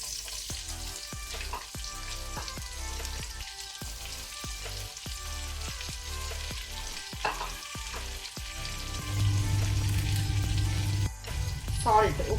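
Two onions fry over a medium-high flame for egg biryani, giving a dense, continuous sizzle with frequent clicking stirs that swell louder toward the end.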